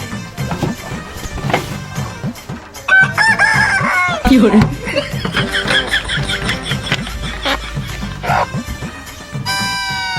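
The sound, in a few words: chicken, rooster crowing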